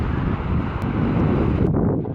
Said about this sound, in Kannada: ಗಾಳಿ ಎಲ್ಲ ಸ್ಟಾರ್ಟ್ ಆಯ್ತು